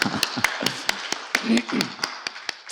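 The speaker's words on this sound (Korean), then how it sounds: "박수 한번 쳐주시죠" Scattered hand claps from an audience at a hospital directors' autumn academic conference, following a congratulatory address; the claps are sparse, uneven and fairly close, with a little voice underneath.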